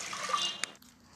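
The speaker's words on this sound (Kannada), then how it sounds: "ಇವಾಗ ಇದು ಕಾಳೆಲ್ಲ ನೀರು ಚೆನ್ನಾಗಿ ಸೋರ್ಕೊಳ್ಬೇಕು." Water from boiled horse gram draining through a strainer into a pot below, a brief trickling splash ending in a sharp drip, then quiet.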